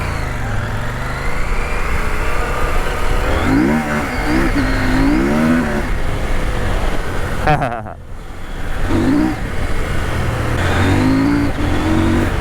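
A CF Moto 800MT motorcycle engine roars and revs up through rising pitch sweeps while riding, dipping briefly before accelerating again, with strong wind rumble throughout.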